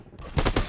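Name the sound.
gunfire in a first-person shooter video game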